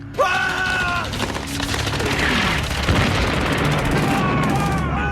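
Artillery bombardment during a World War II wartime setting, with dense, sustained booming and crackling blasts that fill the scene continuously at high loudness, along with faint voices or tonal sounds mixed in.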